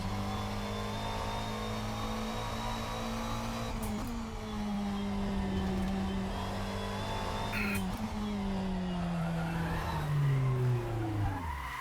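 GT3 race car in Assetto Corsa at Suzuka, its engine droning steadily with pitch rising and falling through gear changes while the tires squeal and skid in long slides.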